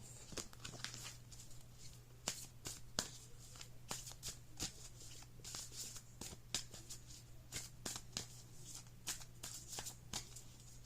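A Moonology Oracle card deck being shuffled by hand, a rapid run of crisp riffling cards and soft slaps over a low steady hum, close and quiet, with no voices.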